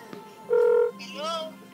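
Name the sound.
telephone being dialed to call someone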